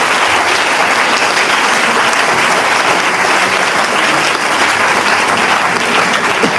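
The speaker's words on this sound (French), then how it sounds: "Acclamons le Seigneur Jésus-Christ" A church congregation applauding the Lord during a thanksgiving worship service, dense, sustained clapping from a large crowd that stays loud and even throughout, with no pause.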